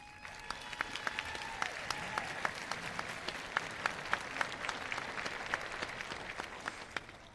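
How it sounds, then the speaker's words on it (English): A graduation audience claps in broad, sustained applause, with sharp individual claps standing out over a steady crowd patter, heard at a moderate distance. "Please give them a big round of applause."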